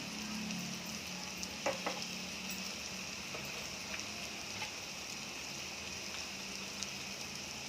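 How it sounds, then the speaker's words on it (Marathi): Spices, including cumin, black pepper, red chilli powder and turmeric, sauté in a pan for a dry cauliflower and potato dish, a faint, even sizzle with a few light stirring taps. "तर मसाले चांगले परतून घ्यायचे"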